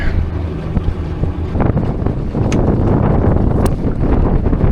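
Strong wind buffeting the microphone on a 1969 Thunderbird tri-hull boat out on a river, a loud steady roar with gusty swells throughout and no talking.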